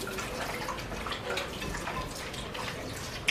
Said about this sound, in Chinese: 我们再把鱼清洗一遍